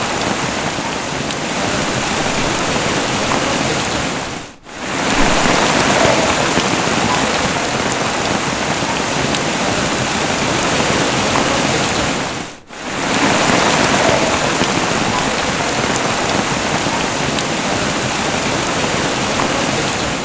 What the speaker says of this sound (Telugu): దారి కనిపించలేనంతగా వాన కురుస్తోంది